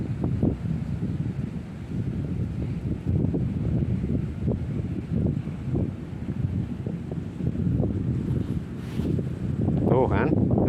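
Wind buffets an outdoor spot while someone is fishing for tawes, a blustery, uneven rumble that swells and dips, with a brief brighter rustle near the end.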